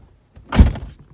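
A car door opens with a single dull thunk, close and fairly loud, with a short rattle trailing off and quiet surroundings before and after.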